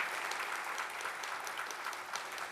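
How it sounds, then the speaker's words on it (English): Conference lunch audience applauds for Don Smith, a dense, even round of clapping from many hands that holds steady throughout, moderately near, with no voices over it. "let's give him a big round of applause"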